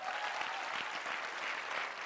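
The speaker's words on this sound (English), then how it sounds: "Give him a huge round of applause." An audience applauds an HR director from KPMG after his talk at Sri Balaji Society. The clapping is dense, even and sustained throughout, filling the room.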